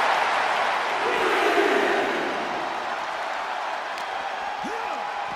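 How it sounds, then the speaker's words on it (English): Arena crowd in the WWE 2K24 wrestling video game roars in a broad, sustained swell that peaks early and then settles to a steady background din. "The sound of this crowd is deafening, and he's asking for more."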